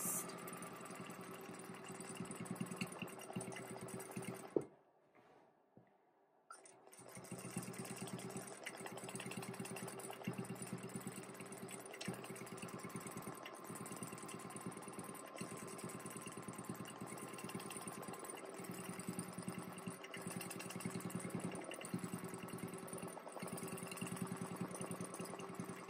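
Domestic sewing machine stitching free-motion quilting of sand dollar designs, a steady motor whir running almost continuously with a brief pause near the start, no talking.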